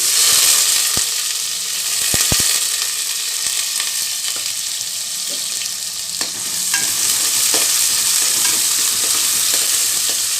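Mustard seeds and dal fry in hot oil in a pan, a steady loud sizzle with crackles and a few sharp pops and spatula scrapes throughout.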